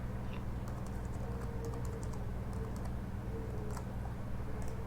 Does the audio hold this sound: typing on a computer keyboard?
yes